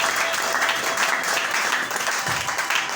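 A church congregation applauds in steady, dense clapping that fills the space, loud and continuous with no pauses.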